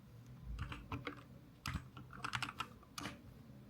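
Typing on a computer keyboard comes through as quick, faint, irregular key clicks, close by and with no voices.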